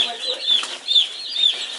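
Chickens kept with meat birds and turkeys on a farm, giving a few short, close clucking calls in a quick irregular series, fairly loud, with no talk over them.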